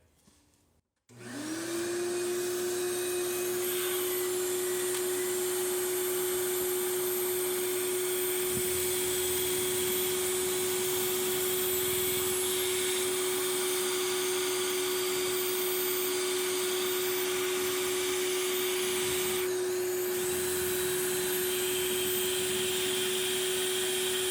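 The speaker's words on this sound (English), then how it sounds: "I just with one hand hold this here with the shop vac on so that all my sawdust is taken care of right away" Shop vac drawing sawdust while pocket holes are drilled for a truss beam table, a loud steady whine that starts abruptly and holds for over twenty seconds, with a faint rough drilling texture underneath.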